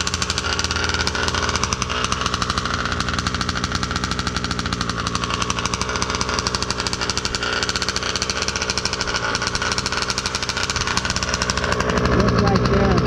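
A gas engine in a billet-built Baja 5B RC car idles steadily just after its first start, a loud, close, continuous buzzing chug with a rapid rhythmic pulse, while someone talks over it.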